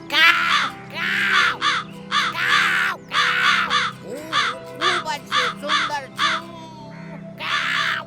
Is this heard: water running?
no